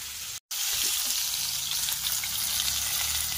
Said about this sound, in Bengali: এদিকে উনুন জ্বালিয়ে দিয়েছি আর মাছ ভাজা চলছে।